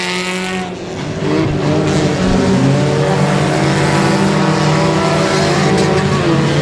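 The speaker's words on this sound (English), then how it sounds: "Logan Griffin in third on the 13J. Just acquiring that Mitsubishi Eclipse" Race cars, including a Mitsubishi Eclipse, roar around a speedway track, engines loud and continuous with overlapping revving and faint tire squeal throughout.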